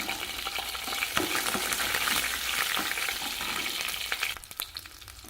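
Garlic cloves frying with browned urad dal in a pan for a coconut-free gooseberry chutney, a steady close sizzle with scattered crackles and spoon scrapes, dying down toward the end; no voices.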